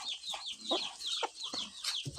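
Small chicks chirp and peep in quick, high, repeated calls, several overlapping at close range with a few lower clucks mixed in.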